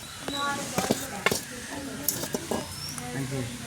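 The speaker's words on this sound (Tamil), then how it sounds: "எவ்வளோ சூடாக இருக்குது பாருங்கள், கொதிக்குது." Bubbling and crackling of hot liquid in a pot, with scattered pops and clinks, while a voice talks over it.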